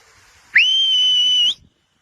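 A single sustained whistle by a person at the top of a waterfall, loud and close, steady pitch for about a second, ending cleanly, with no talking.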